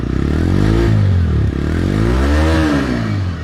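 Held right up to the microphone, a TVS Raider 125cc motorcycle engine runs loud and close, its pitch swelling up and dropping back twice as the throttle is blipped.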